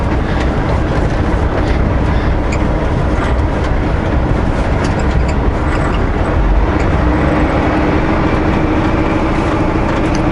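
A heavy tow truck cruising down the highway in fifth gear, its engine a steady loud drone under continuous road rumble that carries unbroken to the end, with no voices.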